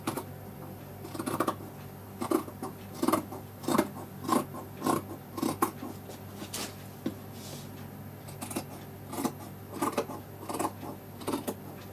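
Scissors snip repeatedly through thin net fabric and its lining, a steady series of close, crisp cuts spaced about every half second, with no talking.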